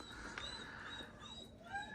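Dogs whimper and whine at feeding time in a string of high, thin, wavering cries that rise and fall. Several overlapping whines sound close and clear against a quiet background.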